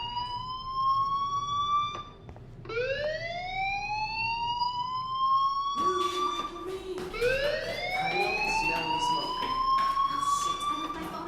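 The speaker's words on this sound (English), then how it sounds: "Hey, do you hear that fire alarm?" A school fire alarm in the video game Life is Strange wails in repeated rising sweeps, loud and steady, with the siren tone restarting several times and no talk over it.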